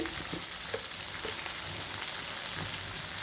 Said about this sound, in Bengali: এই ভেজে রাখা আলুগুলো এবার দিয়ে দিচ্ছি, দিয়ে মশলার সঙ্গে ভালো করে কষিয়ে নিচ্ছি